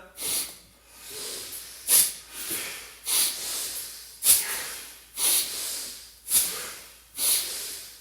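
Forceful Bhastrika breathing: about seven sharp, hissing nasal breaths at a steady rhythm of roughly one per second, close and clear with quiet gaps between them.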